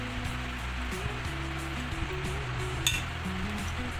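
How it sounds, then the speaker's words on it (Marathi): Water pours into a glass of raw mango panha over ice, a steady splashing hiss with a few light clinks, heard alone and close. "पाणी टाकूया,"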